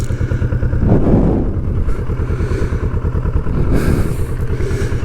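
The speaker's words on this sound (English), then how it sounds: "Now I'll just start her up." A Kawasaki Vulcan S 650 motorcycle starts up and runs close by, its engine loud and throbbing with a couple of revving swells and a bit of mechanical clatter.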